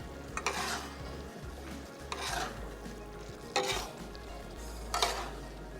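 Beef masala with turnips is stirred in a pot, a spoon scraping through the thick mixture in several separate broad strokes over a steady low hum, close and moderately loud with no voices.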